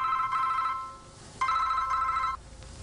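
A telephone rings with an incoming call, two electronic trilling rings separated by a short gap, clear and fairly close.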